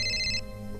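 Mobile phone ringtone in a Nigerian drama scene: a short, bright electronic melody of rapid repeated tones lasting under half a second, then cutting off into a quiet room hum.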